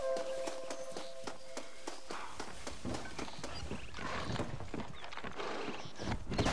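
Horse hooves clip-clopping in the Red Dead Redemption video game, a steady rhythmic trot of several horses pulling a coach, with wheel and harness clatter and a distant whinny, close and fairly loud.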